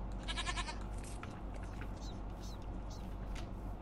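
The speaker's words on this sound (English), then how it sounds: "Goats!" Goats bleat in a blocky IceCraft survival game, a few short harmonic cries near the start, then fainter calls over a steady background hum.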